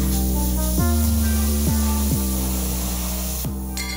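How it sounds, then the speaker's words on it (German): Plasma cutter torch cutting with contact ignition, the torch lifted off and set back down, giving a steady loud hiss and hum broken by several sharp pitch drops as the arc cuts out and restarts. "Fehler bei Schneiden mit Kontaktzündung, Abheben des Brenners und wieder Aufsetzen des Brenners"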